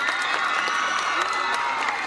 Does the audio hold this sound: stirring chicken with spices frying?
no